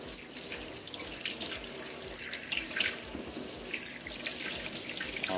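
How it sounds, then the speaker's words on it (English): Warm tap water runs steadily into a sink to rinse a CamelBak bottle, a close, continuous splashing hiss with small shifts in flow. "I'm just gonna run this through with some warm water, not hot water"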